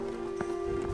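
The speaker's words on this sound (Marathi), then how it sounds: "जास्त पाऊस आहे ना, पावसात नाही का" Heavy rain falls steadily on a monsoon trek to Bhimashankar, a dense, constant wash of drops with a faint steady hum underneath and no voices.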